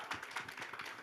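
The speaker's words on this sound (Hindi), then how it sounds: "इनके लिए तालियां हो जाए" Audience applause for actor Manoj Bajpayee at the Sonchiriya trailer launch, a steady wash of many hands clapping with slightly pulsing bursts, fairly close and loud, no talking.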